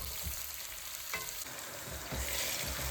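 Onions frying in oil for a beef achar gosht gravy sizzle steadily with a few stirring scrapes and clinks, a continuous close-up crackle that swells slightly toward the end.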